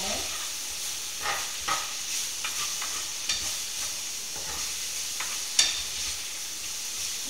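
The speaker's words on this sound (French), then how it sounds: "ça on laisse mijoter donc 8 minutes en tout" Peppers and spices simmer in a pan with a steady soft sizzle, broken by occasional scraping stirs and one sharp clink near the end; a moderate, close, continuous bubbling hiss throughout.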